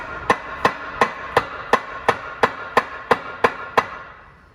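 Hammer blows strike a bike part to drive out a bearing on a Whipple Raptor mountain bike, eleven sharp metallic hits at a steady, even rhythm, close and alone with no talk.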